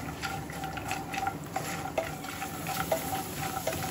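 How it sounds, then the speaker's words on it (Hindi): Chopped cashews and almonds roast in ghee for beetroot halwa, stirred in a pan. A soft, even sizzle runs underneath repeated scraping strokes of the spoon, fairly faint and close. "हम काजू और बादाम को थोड़ा सा भून लेंगे।"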